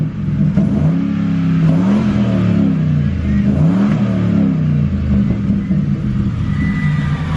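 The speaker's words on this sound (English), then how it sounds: "you guys can hear what it sounds like now with me revving it up" A 2004 Ford Crown Victoria V8 with catalytic converter delete and single-chamber Flowmaster mufflers revs repeatedly with a deep, loud exhaust rumble, rising and falling in pitch, close by and continuous.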